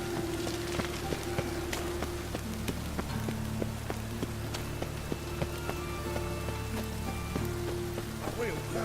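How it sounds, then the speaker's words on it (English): Steady rain patters on a surface in The Witcher 3, a constant hiss broken by scattered drip taps, with faint voices murmuring in the background. "Lots of fuss over lots of rain."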